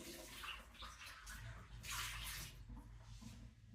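Running water splashes over elderberries being washed in a kitchen, a soft continuous rush with faint gurgles and occasional louder surges.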